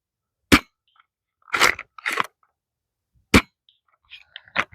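Worker Seagull foam dart blaster, a 250 FPS spring blaster, fires a few sharp, close, dry snaps separated by quiet gaps, with brief clicks and handling noise in between.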